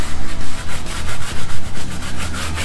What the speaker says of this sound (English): we've got a nice scrubbing brush here. Let's get these tires to scrub.